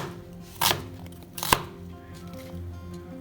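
Two crisp knife strikes cut onions into small centimetre cubes on a board, landing about a second apart, close and distinct over a quiet background.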